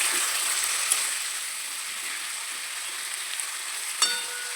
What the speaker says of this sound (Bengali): এবার আমি মাংসটা হালকাভাবে ভেজে নেব